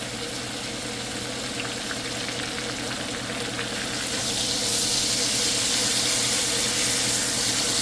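Steak fat sizzles and spits loudly in a hot pan, a steady dense frying hiss that swells louder partway through as the meat is turned, with no talking.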